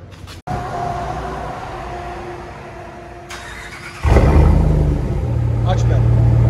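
Dodge Ram 1500 with a 5.7L HEMI V8 and a new Y-pipe exhaust, muffler deleted. The engine runs at a steady idle hum, then jumps to a louder, deeper, throaty exhaust rumble that carries on to the end.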